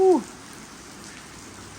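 Steady rain falls at a market during a rainy-season outing, a soft constant hiss after a brief close voice at the start.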